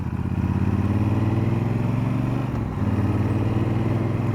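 A Triumph Speedmaster motorcycle with aftermarket exhaust idles close by with a deep, throaty burble, its rumble dipping briefly midway before settling back into a steady putter.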